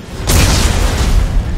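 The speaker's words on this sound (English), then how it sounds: "Computer, arm, explosives." Detonated explosives in the video game Dead Space 3 go off in a single loud boom that hits suddenly and then rumbles and hisses on as a sustained blast tail.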